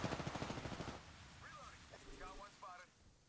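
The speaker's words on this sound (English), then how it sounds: "Someone's still shooting." Rapid automatic gunfire from an Apex Legends match rattles loudly in a dense burst for the first second, then falls back to quieter scattered shooting beneath voices talking.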